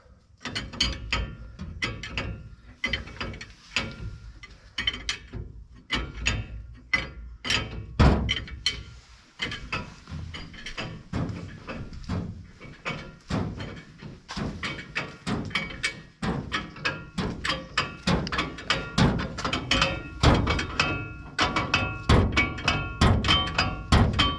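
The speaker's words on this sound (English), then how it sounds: "Letting the tension off the tensioner pulley to take off the belts off the pump on the side of the gearbox." Tools working on a forage harvester's gearbox pump, releasing a tensioner pulley and pulling off its belts: repeated sharp metallic clanks, ratcheting and thunks in irregular bursts, fairly close.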